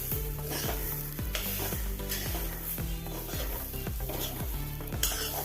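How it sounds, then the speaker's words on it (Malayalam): Steady stirring and scraping of grated coconut roasting in a hot kadai on a gas stove, with a constant sizzle, a spoon sweeping rhythmically about once every half second. "ഇനി ഗ്യാസ് ഓൺ ചെയ്ത് കടായി വെച്ചിട്ടുണ്ട് ഇനി വറുത്തെടുക്കാം"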